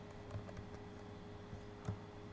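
Quiet keystrokes on a computer keyboard while entering Java source code, a few soft scattered taps over a low steady hum, no voices.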